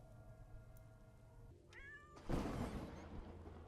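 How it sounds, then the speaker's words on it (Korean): A cat in a horror video game lets out one drawn-out, clear meow after a stretch of quiet game ambience, followed by a louder burst of noisy in-game sound. "어 고양이다"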